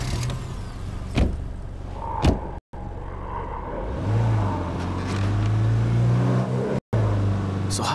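A car drives off in the State of Decay 2 video game: a couple of thumps and a door shut, then an engine steadily revving and accelerating, loud and close, with no talk.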